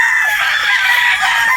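A game-farm rooster crows loudly and close by in one sustained, strained call, with no other sounds around it.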